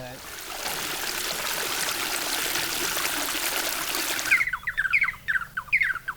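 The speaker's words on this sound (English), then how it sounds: "a goatskin bag spills the water into a network of irrigation channels" Well water pours from a goatskin bag into irrigation channels, a steady rushing splash for several seconds that stops abruptly, followed by chirping birds nearby.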